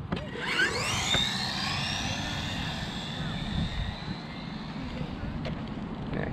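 A Redcat Lightning EPX RC car with a brushed motor runs at full throttle during a speed run, giving a loud, steady high-pitched whine that sweeps upward at first and then holds under constant broadband rush.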